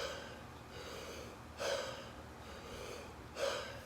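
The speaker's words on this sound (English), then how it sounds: "the inhale is forced and the exhale is relaxed" A person demonstrates a breathing ritual, drawing two sharp forced inhales through the nose followed by softer relaxed exhales, close and intimate with quiet room air between the breaths.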